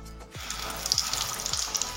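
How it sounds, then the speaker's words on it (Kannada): Chicken pieces fry in hot oil for KFC-style fried chicken, giving a loud, continuous close-up sizzle with fine crackling spatters throughout. "ಈಗ ಎಣ್ಣೆ ಕಾದಿದೆ. ಈಗ ಚಿಕನನ್ನು ಫ್ರೈ ಮಾಡೋಣ."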